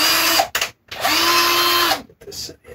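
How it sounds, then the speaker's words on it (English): A power drill fitted with a tiny bit whirs in two bursts, a short one and then a longer steady whine, near and loud, with brief gaps between, while working on a guitar fretboard. "chuck in this tiny little drill bit here"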